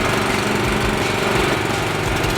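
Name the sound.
sprayer motor being pull-started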